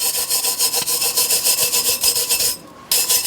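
Rust is scrubbed off a hot tub heater tube with quick, rhythmic rasping strokes, loud and close, with a short pause near the end before the scrubbing resumes.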